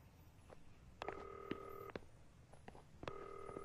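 A phone being dialed, a few quick key beeps followed by two long electronic ring tones that go unanswered, fairly quiet with a faint room background.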